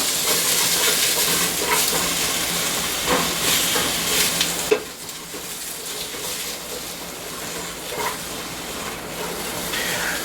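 Chopped vegetables sizzle in hot olive oil at the start of a homemade tomato sauce, a steady close frying hiss with occasional louder crackles and no talk.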